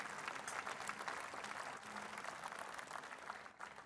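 Sustained audience applause fills a ceremony hall at the Alès Agglomération New Year greetings event, a steady dense wash of many hands clapping at fairly even loudness, easing slightly toward the end.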